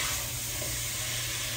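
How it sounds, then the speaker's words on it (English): Pinakbet vegetables sauté in a pan, a dense steady hiss of frying heard briefly and close, with no talk. "Saute in the Philippines is called gisa"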